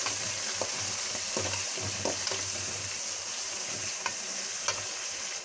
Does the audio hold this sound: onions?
yes